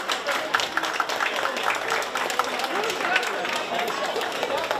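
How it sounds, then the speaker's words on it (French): An audience at a chocolate demonstration applauds a chef with steady clapping throughout, mixed with crowd chatter and voices. "Charles de la maison Julien, qu'on peut applaudir s'il vous plaît, Charles."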